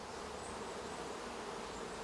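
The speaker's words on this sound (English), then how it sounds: "Matthias Ruhl had to set up a last-minute bee-saving operation" Bees swarm around a hive during a hurried evacuation, a dense continuous buzzing drone that holds steady throughout, quiet and somewhat distant, with no talking.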